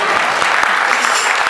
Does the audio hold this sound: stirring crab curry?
no